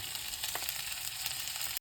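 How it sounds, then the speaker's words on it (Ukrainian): A continuous, close sizzle of burger patties frying in a hot pan, crackling evenly for a brief moment before cutting off. "Все, смажимо котлетки."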